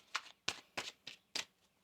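Tarot cards shuffled in quick bursts, five crisp riffling flicks spaced about a third of a second apart, close and fairly quiet with no talking.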